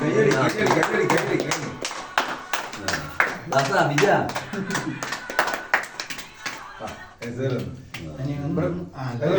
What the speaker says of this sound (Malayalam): എല്ലാവർക്കും കയ്യടിക്കുന്നു.